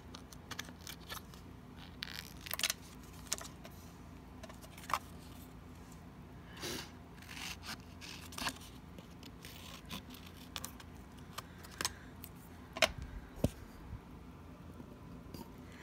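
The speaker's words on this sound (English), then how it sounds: "I'm just gonna grab my tonic scissors and give these a very quick trim." Small tonic craft scissors snipping around glossy resin-coated paper jewelry pieces, a series of faint, close, irregular clicks and short cuts over quiet room tone.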